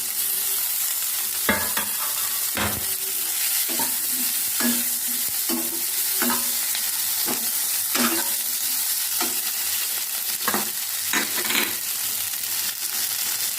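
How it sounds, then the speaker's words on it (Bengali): Fried potato and eggplant pieces go into a sizzling pan for spinach cooking and are stirred, producing repeated scraping clacks of a spatula over a steady hiss of frying oil. "ভাজা হয়ে গেছে, এবার আমি দিয়ে দেব ভেজে রাখা আলু বেগুন।"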